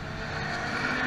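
Dodge Viper race car running on a track, a steady broadband engine roar held at constant loudness throughout, with no voices.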